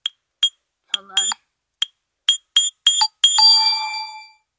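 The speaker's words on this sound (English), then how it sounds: "I'm just turning this phone off." An LG Ally Android phone with a cracked screen powering off, giving a string of short electronic chime tones in an uneven rhythm and ending in a longer ringing tone that fades out, close and clear with no talk.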